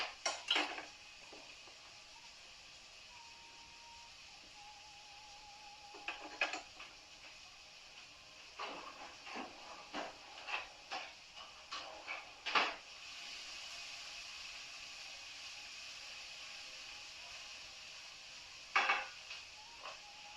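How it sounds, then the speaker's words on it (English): A knife cutting zucchinis on a board, a scattered series of light taps and clicks, fairly close but quiet, with long pauses between strokes and no talking. "So I'll finish cutting my zucchinis."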